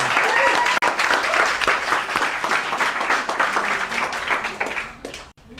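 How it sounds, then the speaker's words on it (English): Workshop audience claps for a participant who shared, a loud, full round of many hands that tapers off over several seconds, with some crowd murmur underneath. "So everyone give her a quick round of applause for sharing."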